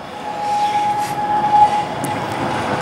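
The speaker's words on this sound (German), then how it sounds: "jetzt kommt wieder eine Straßenbahn, die hört man hier doch deutlich." Tram passing along a city street in Halberstadt, a steady rumbling roll with a sustained metallic squeal or hum held for a couple of seconds, fairly close and continuous, with no talk.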